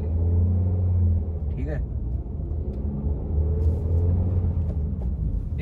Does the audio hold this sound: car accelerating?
yes